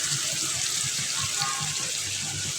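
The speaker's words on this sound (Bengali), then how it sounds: "এবার আমি জল দিয়ে দেবো" Water poured into a pot of braised duck meat, a steady broad splashing and trickling that holds evenly throughout at close range, with faint kitchen clatter beneath.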